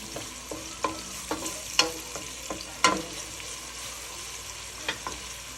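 Italian tomato sauce stirred over high heat in a pan, with a steady low sizzle broken by scattered scraping clicks and clinks of the spoon, close and moderately quiet.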